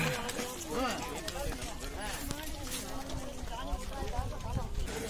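A bullock cart pulled by cattle rolls along near the Isha Yoga centre in the Western Ghats, hooves clip-clopping steadily close by while people talk and other activity carries on around it.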